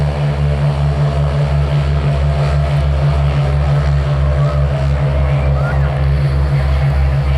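A steady, loud droning propeller aircraft engine at a Pontoise air show, with a deep pulsing low throb, continuous throughout, running close by.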